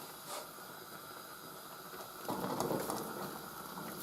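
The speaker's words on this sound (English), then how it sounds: "And this is now to simmer until it thickens." Rhubarb sauce with garlic simmering in a pan gives a steady, soft hiss and faint bubbling that swells louder partway through, with no voices.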